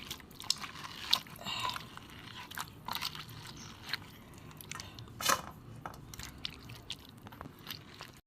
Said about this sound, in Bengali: আমটাটা খোসা ছাড়িয়ে নিয়েছি এবার আমি কাদটা বার করে নেব চটকে চটকে।